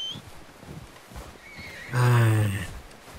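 A horse whinnies loudly and close for about a second in the video game Red Dead Redemption 2, after soft background sounds and faint hoof clops.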